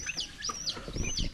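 A large, well-grown chicken on a small pig-raising farm gives a few short, close clucks in quick succession, with some low background noise and no talk.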